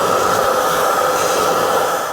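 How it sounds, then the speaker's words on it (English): A shop vacuum sucks crusty, brake-fluid-soaked residue out of a truck brake assembly during a 14-bolt axle swap and disc brake conversion, giving a loud, steady broadband whoosh with no pauses. "I'm gonna vacuum that a little bit, get a bunch of that stuff out of there."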